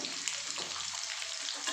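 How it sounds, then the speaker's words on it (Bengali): Onion sizzles in a pan for a chickpea curry: a continuous close crackling hiss with slight stirring texture and no voices. "একটু ভাজা ভাজা করে নেবো"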